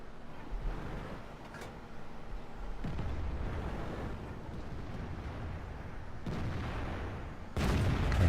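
Tank cannon shots in World of Tanks, a T32 and a Conqueror trading fire, come as several heavy, muffled booms spread across the stretch, each followed by a low rumble, with the loudest blast at the end.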